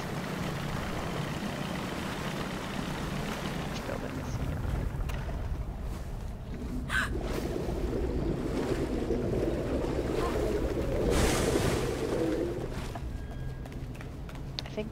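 A boat moves across water in the video game Sea of Solitude, a continuous low engine rumble with washing waves and sea wind, steady and fairly close, with no talk.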